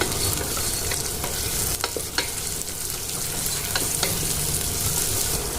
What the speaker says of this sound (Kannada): ಈರುಳ್ಳಿ ನೀಟಾಗಿ ಫ್ರೈ ಮಾಡ್ಕೊಳ್ಳೋಣ